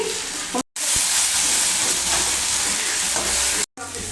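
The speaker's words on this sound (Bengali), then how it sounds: "ভাজবো ভালো করে এবার আলু করে দিয়ে দিই বন্ধুরা বন্ধুরা আলু দিয়ে দিচ্ছি আবার হলুদ দিয়ে দিচ্ছি" Potatoes frying with turmeric in a pan for a Bengali fish curry, a loud close hissing sizzle with stirring, broken by two brief cuts to silence, no voices.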